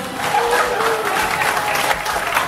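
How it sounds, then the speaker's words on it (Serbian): An audience claps together in a sustained burst of applause with a crowd murmur mixed in, filling the space evenly for a couple of seconds. "Ajmo jedan veliki aplauz."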